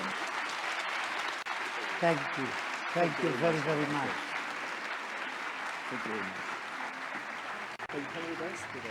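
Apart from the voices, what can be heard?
audience applause after a presentation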